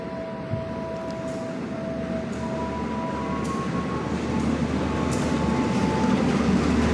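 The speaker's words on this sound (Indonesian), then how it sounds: "Kereta api Mataram New Generation Stainless Steel." The Mataram New Generation stainless steel passenger train rolls in with a loud, steady rumble and rail noise that builds slowly, a few faint high squeals above it, and no speech.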